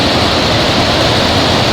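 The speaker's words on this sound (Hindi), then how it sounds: "वो पानी आवाज़ आ रही है" Water rushes in a mountain stream below Laila Peak near Haramosh base camp, a loud, dense, unbroken roar filling the whole clip with no voices.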